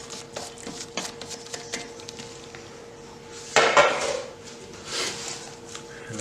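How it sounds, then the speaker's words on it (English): Kimchi paste being mixed with spring onion and sliced radish, giving soft wet stirring and a few clinks of utensils against a bowl, with one louder burst of mixing partway through. "So you can add all the mixture together."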